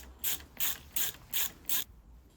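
A ratchet screwdriver loosens a bolt on a 2025 NC750X motorcycle, giving five evenly spaced bursts of quick clicking close by, with quiet gaps between them and no talking.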